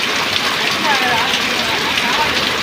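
Sudden heavy rain pours down in a steady, dense hiss that holds at an even level throughout, with no breaks or individual drops standing out.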